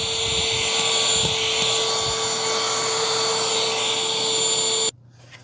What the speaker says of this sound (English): Now when I go back, it's going to suck that up.